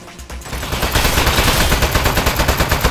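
Turret gunfire in Portal: a loud, sustained stream of rapid automatic shots with a steady rattling pulse that continues without pause.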